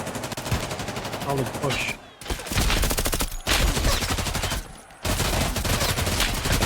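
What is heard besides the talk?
gunfire in Hunt: Showdown video game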